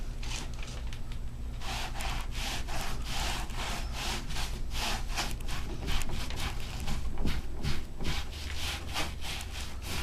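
A sponge strokes Venetian plaster up and down across a wall in a Carrara coarse stria finish, giving a steady run of rhythmic, close scraping rubs with no pauses.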